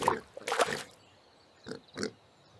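A pig oinks in a farm-animal sound game for children, a few short snorting grunts in separate bursts, clear and close, with no talk.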